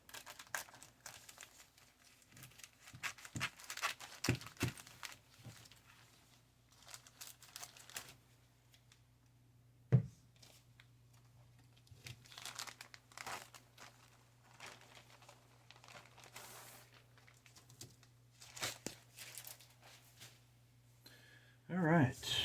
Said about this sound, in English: Now let's open up this plastic bag.